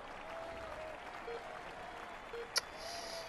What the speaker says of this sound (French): Allez, on l'applaudit bien fort.